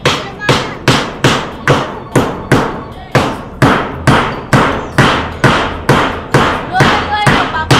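Nails are hammered while a house is storm-proofed, with about fourteen loud, sharp blows landing in a steady, even rhythm close by.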